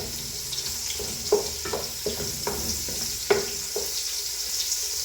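Onions and ginger sautéing in a pan, a steady soft sizzle with several light stirring scrapes and clinks, close by and without speech.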